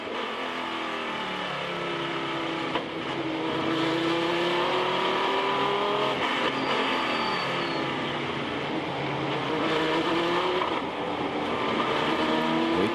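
GT race cars from the Chevrolet, BMW, Viper, Ferrari and Porsche field pass in a compact pack on the Virginia circuit during the Oak Tree Grand Prix, with overlapping engine roars and upshifts blending into a continuous loud drone.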